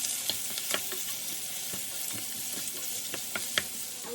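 Sliced onions fry in a pan for mutton biryani with a gentle steady sizzle and scattered pops and spatula scrapes, close up and unbroken by talk.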